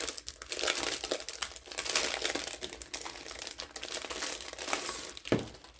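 Plastic packaging around a new wall calendar crinkles and rustles as it is opened, close and continuous with bursts of crumpling and a sharper tear near the end, no talking.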